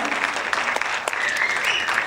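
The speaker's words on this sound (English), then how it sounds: "Please give Manny Perez another round of applause for his solo." Applause breaks out after a drum solo at a high school jazz concert, a short burst of dense clapping from an audience, fairly loud and continuous with a few sharper claps standing out.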